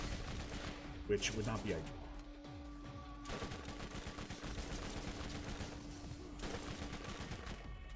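Turret gunfire in the Borderlands 1 video game, broadband bursts of shots rattling steadily through the scene at moderate distance, with a person talking over parts of it.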